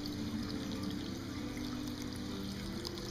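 Water trickles steadily and softly down a small tabletop lotus fountain of hand-sculpted rock, spilling from a little pond at the top. The gentle, continuous splashing stays faint and even throughout.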